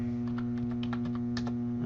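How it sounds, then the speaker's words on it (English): Fingers tap quick, light keypresses on a calculator keypad, several irregular clicks over a steady electrical hum. "I'm just typing in the numbers."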